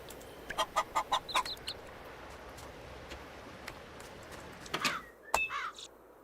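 Game chickens in Moonlight Peaks, a blue chicken among them, give a rapid string of short clucks, a lull of soft background, then a couple of louder squawks and a sharp knock before near silence.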